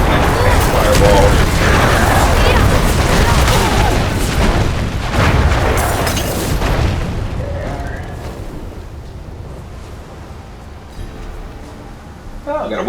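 Fireball spells cast by a sorcerer in Diablo 4 explode repeatedly in dense, loud booming bursts over game music and effects, then fade to quieter rumbles, with a voice talking throughout.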